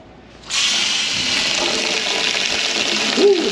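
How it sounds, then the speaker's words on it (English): Water gushes steadily from a tap in a boat's galley, a loud, even hiss that starts suddenly and runs without a break, with a faint clunk near the end. "Now I'm going to get some water. I'm just using it out of the tap because we're on a boat."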